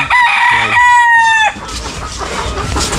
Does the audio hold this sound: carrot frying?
no